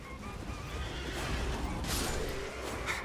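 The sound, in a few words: horse Torrent whinnying in the video game Elden Ring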